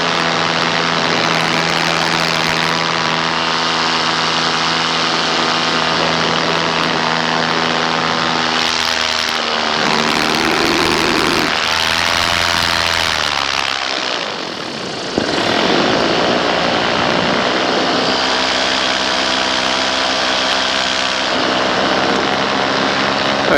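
A small propeller airplane flies over a landing zone. The engine drones loud and steady, heard from close by, with a brief dip in power partway through before the full roar returns.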